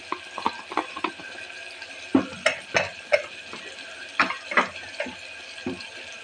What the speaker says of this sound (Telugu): వేసిన తర్వాత కలుపుకోండి ఒకసారి.